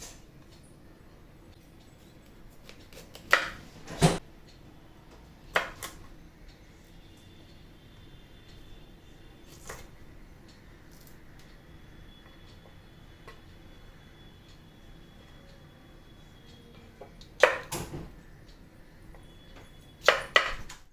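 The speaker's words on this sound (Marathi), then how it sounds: "आता आपण ब्रोकली आहे ना, आता आपण थोडी कापून घेऊया. हे गड्डे आहेत ना असे छोटे छोटे काढून घ्यायचे." Broccoli being cut into small florets with a knife on a board, heard as a few sharp, isolated chops and taps spaced apart over a quiet kitchen background, close and clear.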